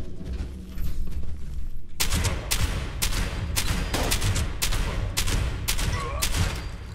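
Gunfire from the video game Fallout 76 comes in a dense run of loud shots. They start after a short quieter lead-in and crack in quick, uneven bursts, with heavy booms behind them.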